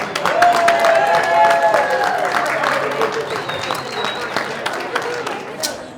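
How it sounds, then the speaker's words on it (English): Applause and some cheering break out after a countdown at a ribbon-cutting ceremony, loud and full at first and gradually thinning, with voices and a few whistles mixed into the crowd noise. "Round of applause."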